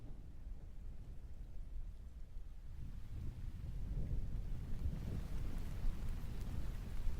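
Distant thunder in a video game rolls as a low, steady rumble that swells in the second half, with a soft wash of rain underneath and no voices.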